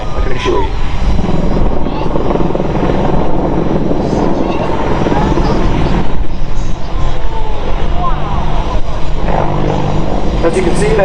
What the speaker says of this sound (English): This manoeuvre shows the immense agility of the 10-ton aircraft.